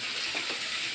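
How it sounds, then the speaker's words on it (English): Onion fries in hot oil, giving a dense, even sizzle and hiss that is up close and steady for a brief moment, with no talking. "now that our oil is ready, let's add a lot of onion"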